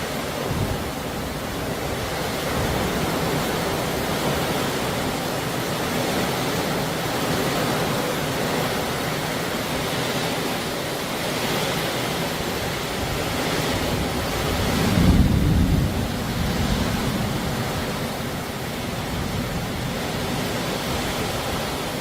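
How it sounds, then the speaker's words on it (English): Strong wind roars steadily into the microphone with broad rushing noise, swelling in a heavier gust midway; no voices. "it's so windy"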